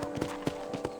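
Rhythmic clip-clop of a horse's hooves in the video game Red Dead Redemption, at a steady trot-like pace, four distinct hoofbeats spaced evenly over a second, close and clear over a faint background hum.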